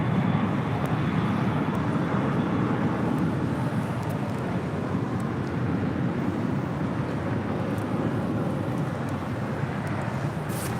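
MD-11 jet departing LAX, a broad, steady roar of engine thrust held for the whole stretch, fairly loud and unbroken, with no voices.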